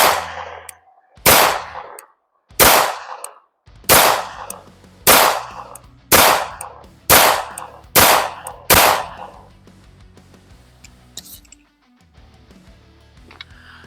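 A B6C firearm fires nine sharp, loud shots at close range, about one per second and evenly paced, each with a ringing tail. After the string ends, only faint clicks and handling noises remain.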